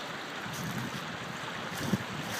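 Strong 40 to 50 mph wind gusting across an off-grid farm during a big storm, a continuous rough whoosh buffeting the microphone, with a brief thump near the end.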